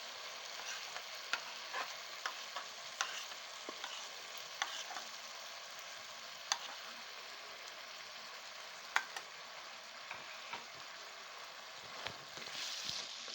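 Beef cooked with yogurt and blended masala frying steadily in a pan, a soft continuous sizzle broken by occasional stirring clicks, fairly quiet and without talk.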